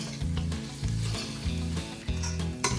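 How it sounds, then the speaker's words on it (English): Garlic and ginger sauté in a pan over medium heat, crackling and sizzling steadily up close while a utensil clanks against the pan in repeated strokes. "I'm going to saute this for about 2-3 minutes, still doing on medium heat"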